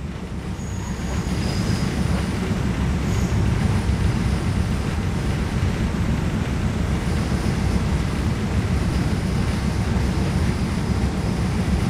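Inside a nearly empty carriage of the Feeder train between Phra Chom Klao and Lat Krabang, a steady low rumble of wheels on track and carriage noise runs continuously, with faint high squeals now and then.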